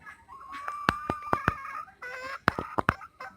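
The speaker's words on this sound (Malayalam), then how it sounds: "ഇത്രത്തോളം കോഴി എനിക്കുണ്ട്" Backyard chickens, a flock of roosters and hens including black-feathered birds, cluck and squawk in short, close, uneven bursts with brief pauses in between, and no one speaks.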